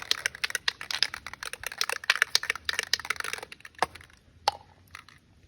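A spray can of MPPL multi-purpose penetrative lube being shaken for chain cleaning, a fast run of close, loud rattling clicks that thins out near the end into a few separate knocks.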